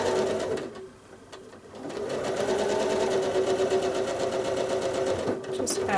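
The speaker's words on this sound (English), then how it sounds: "Travel stitch along the edge and swing down and around." A sewing machine doing free motion quilting runs in a fast, steady mechanical chatter, pausing briefly and then resuming, while a person talks over it.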